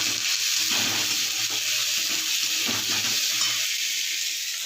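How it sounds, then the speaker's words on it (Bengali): Green peas with onion and ginger-garlic paste frying in a pan, with a steady close sizzle and scraping stir strokes running throughout, no voices. "আদা রসুন বাটা পেঁয়াজ দিয়ে নেড়ে কড়াইশুঁটি দিয়ে দিচ্ছি।"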